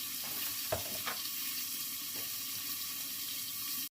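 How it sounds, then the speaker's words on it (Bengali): Pointed gourd sizzles steadily in hot oil, a soft constant hiss with a couple of faint clinks, and no talking. "পটলটা একটু ভালো করে ভেজে নিয়ে"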